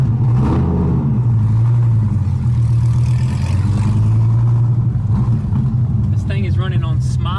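Close inside a Lamborghini Urus, the engine revs loudly after a jab of the throttle pedal and holds a steady, deep droning pitch, with people talking over it and a brief higher whine near the end.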